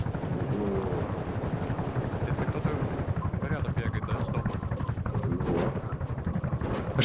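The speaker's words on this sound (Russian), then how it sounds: "По нам вертолет, ребят, долбит." An attack helicopter in the video game Rust pounds the players, with a continuous loud rotor drone and rapid bursts of gunfire under dense, excited voices talking over the action.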